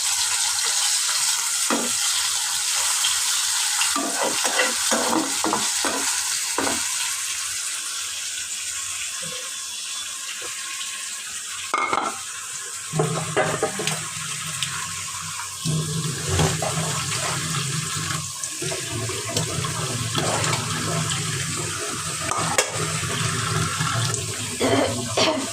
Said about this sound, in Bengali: এই তো পটল ভাজি করতেছি